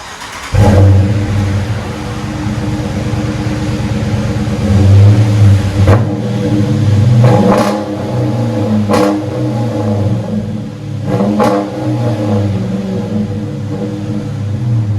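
A 2015 Dodge Charger HEMI with dual exhaust and Flowmaster Super 10 mufflers idles with a loud, deep burbling rumble up close, then several sharp throttle blips rev the engine up and drop back.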